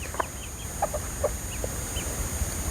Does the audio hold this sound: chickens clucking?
yes